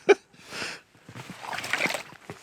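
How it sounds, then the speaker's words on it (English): Water splashes and sloshes outdoors in a snowy blizzard camp as it is filtered, a sharp splash at the start followed by intermittent gurgling and swishing, fairly close and moderately loud with no talk. "Filtering water."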